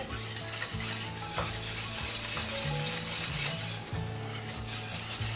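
Batter for crêpes with beer mixed in, stirred briskly in a bowl: a steady close scraping and sloshing with a rhythmic knock against the bowl, continuous throughout.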